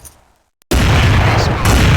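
Loud, sustained blast of a grenade explosion in the Counter-Strike video game, an abrupt onset after near silence that roars on as a dense rumble to the end.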